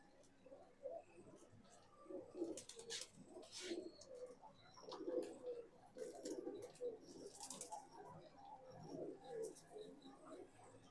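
Madrasi pigeons kept for sale coo softly in repeated low, throaty phrases, several birds overlapping at close range with a few faint chirps between.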